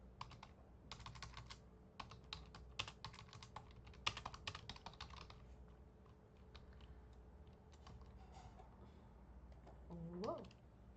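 Computer keyboard typing in quick clustered bursts of key clicks, loud at first and then thinning out, with faint background noise and a brief voice near the end.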